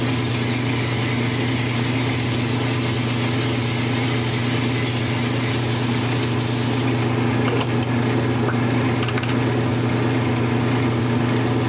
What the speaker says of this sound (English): it's hard to get an airbrush in there without getting extra paint somewhere else